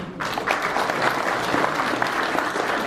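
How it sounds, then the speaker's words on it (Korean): Audience at an international academic conference marking 32 years of Korea-Russia relations applauds, a steady, dense patter of many hands clapping for about three seconds. "네, 박수 부탁드립니다."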